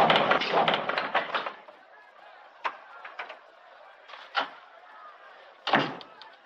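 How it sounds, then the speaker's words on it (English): A heavy door in a 1948 Western mining town is shut and barred, with a cluster of wooden clatters and knocks followed by several sharp thumps and a final bang, close and mostly alone. "Bar that door. That one, too."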